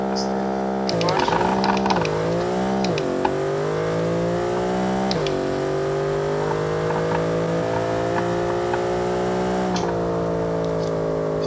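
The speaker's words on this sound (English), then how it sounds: "See how good this thing does burnouts." A 900 hp naturally aspirated drag wagon car loudly revving through a sustained burnout, engine pitch sweeping up and down before settling into a steady high-rpm howl.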